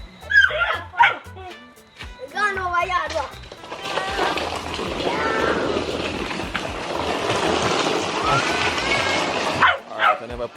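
A puppy yips and barks in short bursts, then a stretch of whining and whimpering mixed with shuffling, with a person talking nearby.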